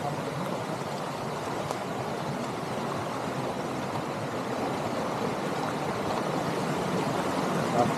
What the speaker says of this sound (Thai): ไปตามเสียงน้ำตก